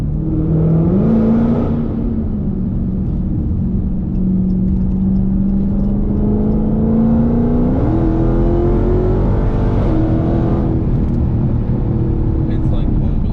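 Supercharged Dodge Hellcat engine pulling hard under acceleration, a loud, steady low roar with rising pitch and supercharger whine heard from inside, with people talking over it.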